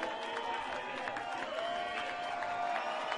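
Crowd at the Iowa Corn 300 IndyCar race, a steady wash of cheering and applause held at an even level throughout, fairly distant and broad with no single voice standing out.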